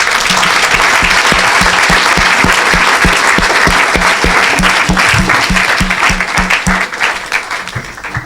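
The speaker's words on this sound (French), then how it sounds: "Quelqu'un acclame le Seigneur." A church congregation claps and cheers for the Lord in a loud, sustained burst of rhythmic applause that fills the room and tapers slightly at the end.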